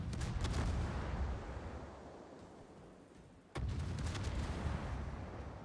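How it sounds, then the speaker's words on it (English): Heavy naval gunfire from the battleship Bungo in a World of Warships-style game, two sustained booming salvos with a rumbling decay between them, loud and close without talk. "Battleship shells from the Bungo coming in"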